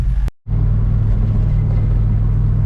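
Car fitted with a Holley double pumper carburetor cruising slowly while running rich, a loud steady low engine drone and rumble heard up close, briefly cut by a short gap near the start.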